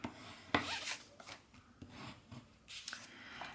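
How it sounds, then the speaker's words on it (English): Cardstock card base being folded and burnished along a score line, a quiet close-up sequence of soft scraping and rubbing strokes with a sharper crease sound near the start. "I'm going to bring in my card base and actually fold and burnish along the score line"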